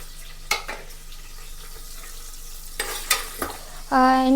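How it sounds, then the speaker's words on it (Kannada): Onion, tomato, curry leaves and green chili go into a hot pan and fry, with a few short stirring scrapes followed by a sudden loud sizzle near the end, close and without talk. "ಒಂದು ಈರುಳ್ಳಿ, ಒಂದು ಟೊಮ್ಯಾಟೊ ಆ್ಯಂಡ್ ಕರಿಬೇವು ಮತ್ತು ಹಸಿಮೆಣಸಿನ್ಕಾಯಿ ಅದನ್ನು ಹಾಕ್ತಾಯಿದ್ದೀನಿ"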